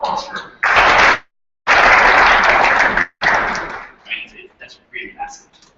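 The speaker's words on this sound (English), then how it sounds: "Give yourselves a round of applause" An audience at an e-tourism summit session breaks into applause in three loud bursts that cut off abruptly, followed by fainter scattered sounds.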